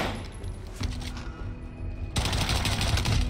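Pistol gunfire in the Warzone video game, several sharp shots amid busy game noise, growing louder and denser in the final second, with no voices.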